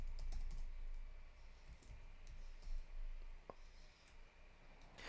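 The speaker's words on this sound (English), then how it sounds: "Now we might need to type in the whole lot." Keystrokes on a computer keyboard while searching for the Microsoft Store on Windows 11, a quiet run of irregular clicks in bursts with short pauses, no talking.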